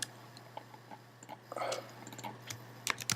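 Numbers are typed on a computer keyboard in a run of light, irregular key clicks, sparse at first and then a quick cluster of sharper taps near the end, over faint background hum.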